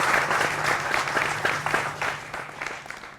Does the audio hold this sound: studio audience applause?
yes